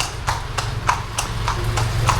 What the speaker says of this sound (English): You can see the horse flip-flopping along.